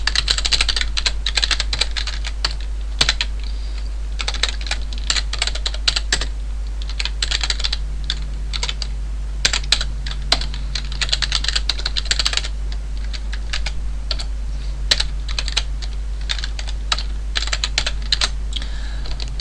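Code being typed on a computer keyboard, a quick close run of key clicks in bursts with short pauses, over a steady low hum.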